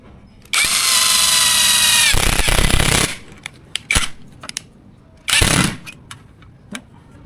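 A power drill bores holes for fitting a hinge on a 10-inch side-opening fitting: one long loud whining run, then sharp clicks and a second brief burst, close up with no speech.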